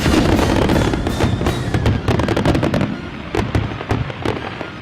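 Fireworks bursting in rapid succession, a dense barrage of loud cracks and booms crowding together, then thinning into separate sharp pops.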